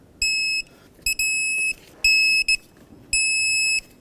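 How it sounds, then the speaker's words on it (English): Several high electronic beeps from a digital torque wrench sound in a row, each lasting about half a second with short gaps between, clear and close over quiet background noise. "I just want to hear the beep."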